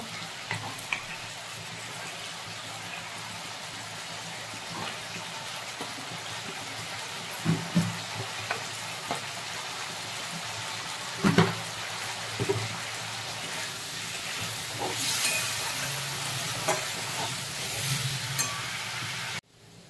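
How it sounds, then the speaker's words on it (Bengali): Potatoes fry in mustard oil in a wok with a continuous close sizzle, and scattered scrapes and clatters of stirring land every few seconds. The frying grows a little louder near the end before it cuts off. "এবার ওই তেলের মধ্যে আলুটা ভেজে নেব।"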